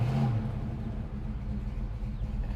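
A 1972 Buick GS Gran Sport engine with a Flowmaster exhaust gives a steady, deep rumble close by, with a brief higher tone at the start before settling into an even low drone.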